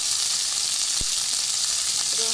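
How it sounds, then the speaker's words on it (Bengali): Onion, tomato, garlic and ginger fry together in hot oil with a loud, continuous, close-up sizzle, broken only by a single brief knock of a utensil. "সব একসঙ্গে আমি একটু ভেজে নেব"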